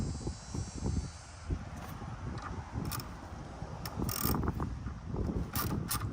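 A 10 mm bolt on a Honda battery terminal is loosened with a ratchet, giving quick repeated clicking and mechanical rattling close by against a steady garage background.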